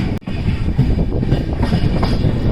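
An electric-hauled train on Indian Railway tracks rushes past very close, a loud dense rumble of wheels and carriages with rapid rhythmic clatter throughout, heard from alongside the line.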